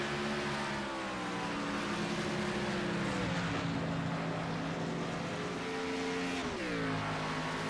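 Race car engines roar steadily in an online racing video game at Watkins Glen, loud continuous droning with pitch dips and rises as cars shift and brake, heard alone without talk.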